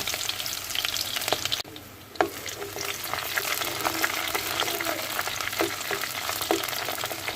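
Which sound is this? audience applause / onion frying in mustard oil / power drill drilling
onion frying in mustard oil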